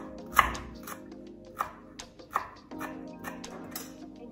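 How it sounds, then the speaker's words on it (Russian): A few distinct knife thuds on a cutting board at an uneven pace as dill and parsley are chopped, with quieter scraping and rustling between them. "Зелень измельчим."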